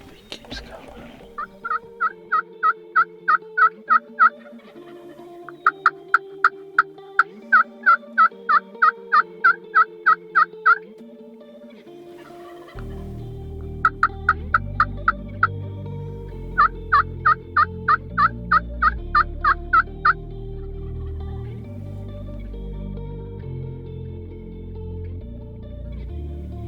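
Wild tom turkey gobbling in Nebraska hill country, with loud rapid gobbles in repeated bursts separated by pauses, and a steady rustling background in the later part.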